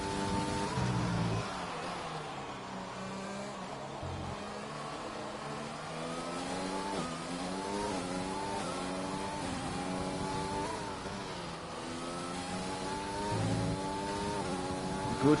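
A Mercedes Formula 4 race car engine howls through a lap of Zandvoort in a sim racing game, revs climbing and dropping repeatedly with gear shifts, a steady mid-level onboard drone throughout.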